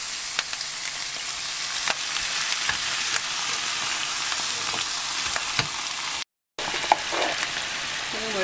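Dried pollack braising in soy sauce with a little broth in a pan, giving a steady, close sizzle and bubble with faint clinks, all without talk.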